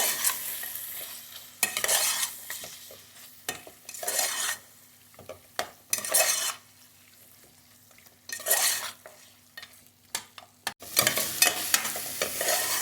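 Mutton with garam masala is stir-fried in a pan, with bursts of scraping spoon strokes and rattling against the metal over a soft, steady sizzle, close and intermittent with short pauses.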